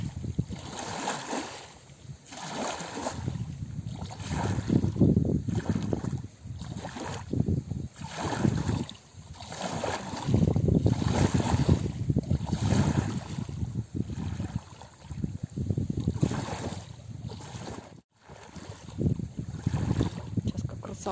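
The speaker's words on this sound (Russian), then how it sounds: "Волны там, знаете." River waves slosh and surge in rhythmic swells in chilly early-spring weather, with gusty wind buffeting the microphone over the steady wash of water.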